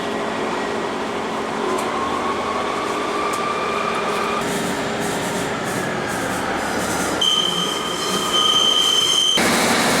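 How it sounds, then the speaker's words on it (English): A train rolls along the rails near Cardiff Central with a steady rumble, faint squeals and a rising metallic whine near the end, heard from inside a carriage. "We're going to be on this train for a little while"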